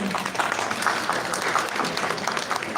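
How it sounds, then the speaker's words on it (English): Steady audience applause rolls through a conference hall at an academic gathering, a continuous even patter of many hands at moderate loudness with no voices on top. "please give applause to four of them"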